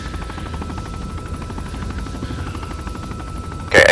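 Military video game helicopters, rocket-mounted, hold a steady low rotor drone throughout the scene, with a rhythmic thumping texture and no talk, before a sudden louder burst at the very end.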